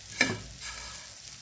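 Live tangra fish drop into a pot of boiling salted, turmeric-tinged water with one brief splash, followed by a soft steady bubbling hiss.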